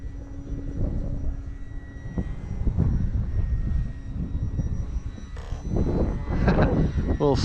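FMS Kingfisher RC airplane flying a stall turn, its small electric motor buzzing and rising and falling in pitch outdoors over a runway, with someone talking at times and wind gusts.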